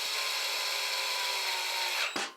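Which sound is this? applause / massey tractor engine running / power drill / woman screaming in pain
power drill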